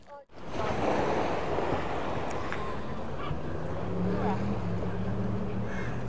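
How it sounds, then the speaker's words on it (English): Sea surf rolls onto a South Devon beach on the coast path between Paignton and Torquay, a steady broadband wash of waves with wind buffeting the microphone, beginning after a brief muffled knock. "Let's just go down onto the beach. I love walking next to the sea."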